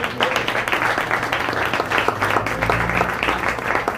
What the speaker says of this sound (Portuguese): Quem crê nisso, dê uma salva de palmas